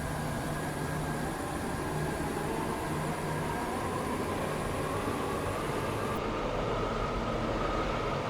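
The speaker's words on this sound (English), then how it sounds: "This train is formed of 4 coaches." A Stepford train in a video game, likely a class 68, 158 or 168 with four coaches, running along with a continuous even rumble and rolling hiss, steady and fairly loud, with no talk.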